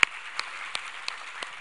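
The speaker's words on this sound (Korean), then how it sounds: "우리 하나님께 감사와 영광의 박수를 돌리겠습니다." A church congregation at a Sunday worship service claps in a sparse, evenly spaced rhythm, the few soft claps fairly quiet and distant in a still hall.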